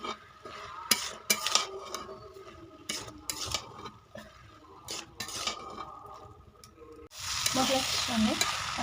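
Green peas and spices for ghugni sauté in a pan with intermittent stirring, scraping and clinks of the utensil against the pan over a low sizzle. The frying grows louder and more continuous near the end.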